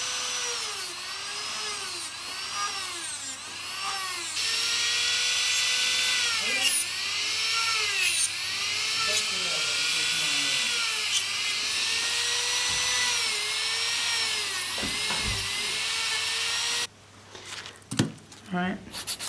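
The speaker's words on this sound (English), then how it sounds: "I'm going to start drilling now. So I've swapped over to my safety drill bit here" A high-pitched electric nail drill with a safety bit whirs steadily on acrylic nails at medium speed, its pitch rising and falling in repeated sweeps, then stops near the end, leaving brief clicks and handling noises.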